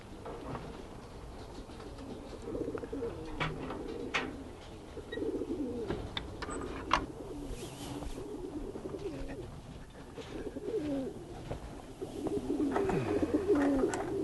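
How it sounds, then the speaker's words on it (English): Several homing pigeons coo repeatedly, low throaty warbles overlapping at close range, with a steady background rumble throughout. "The pigeons that we have here, they are homing pigeons."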